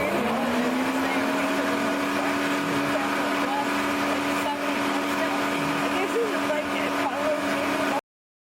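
A car makes a steady, droning whine with a low hum underneath, running continuously for about eight seconds before cutting off abruptly.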